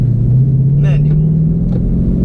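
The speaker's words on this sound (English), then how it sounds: "let the clutch out slowly. Give it a little gas." A 2009 Dodge Challenger with a manual gearbox pulls away slowly, its engine giving a low, steady hum from inside the car, with short bits of speech over it.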